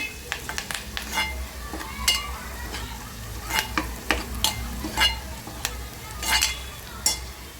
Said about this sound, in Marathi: हा आपला कांदा लसूण मसाला आणि घाटी स्पेशल मसाला आपण यामध्ये टाकत आहोत या पूर्ण तेलामध्ये भाजून घ्यायचा